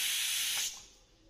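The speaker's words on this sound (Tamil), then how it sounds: "இப்ப நம்ம குக்கர் மூடி போட்டு இதை நம்ம மிதமான தீயில வச்சு ரெண்டு விசில் போல விட்டு எடுத்துக்கலாம்." A pressure cooker cooking pongal on a medium flame releases a loud, steady hiss of escaping steam that cuts off partway through, leaving a fainter lingering hiss.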